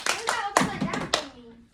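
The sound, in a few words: hand clapping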